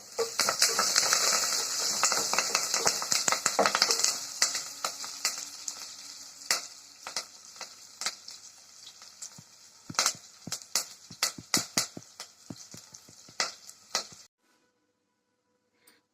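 Curry leaves crackle and spit in hot oil while a bitter gourd fry is made, loud at first, then settling into scattered sharp pops and sizzles that stop abruptly near the end.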